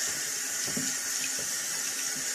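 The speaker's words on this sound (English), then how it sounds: "I'm just going to go ahead and wash them off with soap" Hands being washed with soap under a running tap at a sink, a steady loud stream of water with faint splashes and rubbing as the hands move.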